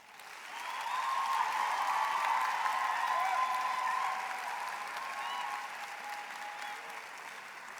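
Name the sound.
graduates applauding their families at graduation ceremony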